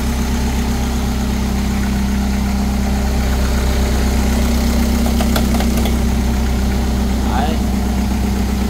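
A Toyota four-cylinder diesel engine on a two-axle, four-wheel-drive wheel loader idles loud and close with a steady low rumble and constant vibration, a few faint clinks partway through.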